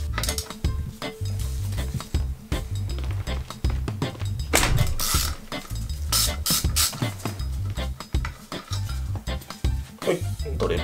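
A bolt being removed from the crank of a Fuji Feather fixed-gear bicycle during a bottom bracket swap: irregular metallic clinks, scrapes and tool knocks, some close and sharp, with a voice speaking intermittently underneath.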